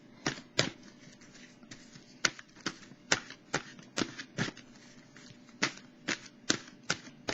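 Tarot cards are shuffled and drawn in a run of crisp, quick riffling snaps and slaps, about a dozen sharp bursts spaced irregularly, close and clear over quiet background, with no talking.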